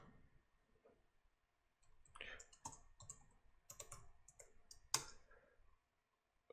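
A password is typed on a computer keyboard as a short, quiet run of irregular key clicks, ending with one sharper keystroke.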